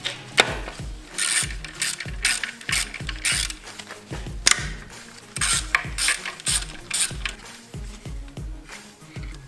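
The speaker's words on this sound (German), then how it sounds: "Da schraubt man als erstes die beiden Schrauben vom Räderkastendeckel hier und hier raus." A hand ratchet turning an E8 socket to loosen bolts on a BMW M50/M52 inline-six engine, rapid clicking pawl bursts in repeated close strokes with short pauses between them.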